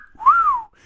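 A single wolf whistle rises and then falls in one smooth, loud, clear tone with no other sound around it.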